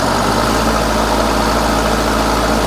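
A Case 450 bulldozer engine idles with a loud, steady, low rumble and vibration close by, the throttle bumped slightly with little change in tone.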